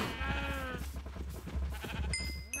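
Sheep in the video game Minecraft bleat several times in a short burst, close and clear, with a brief higher bleat near the end and no speech.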